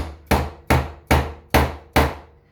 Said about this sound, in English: Give it a good tap.